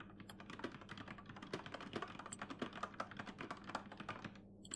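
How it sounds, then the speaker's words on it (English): Rapid computer keyboard typing from an itch.io video game, a steady stream of close, crisp key clicks over a soft hum. "Still typing?"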